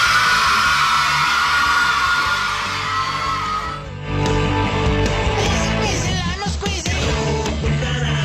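A large crowd at a futsal match in Cagliari roars with yelling and cheering, sustained and loud, with a shift partway through into a busier mix of shouts and voices.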